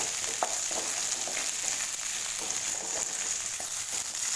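Okra (lady's finger) frying in oil over a medium flame for a Tamil kara kulambu curry, a dense continuous sizzle with small scraping stirs, close and steady, no voices.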